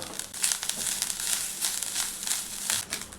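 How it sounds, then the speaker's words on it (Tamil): Grated coconut being sautéed in a pan until its moisture cooks off, a soft continuous sizzle and crackle with light scraping, close and steady with no talking. "இந்த அளவுக்கு தேங்காய் வதக்கினா போதும்"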